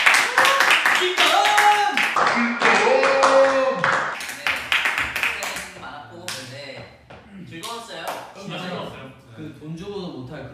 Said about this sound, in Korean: 그냥 우리 박수 한번 칩시다.